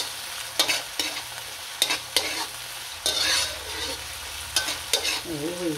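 Tomatoes and string beans frying in a pan, with a steady sizzle broken by repeated sharp scrapes and knocks of a utensil stirring the food, close and clear with no talking.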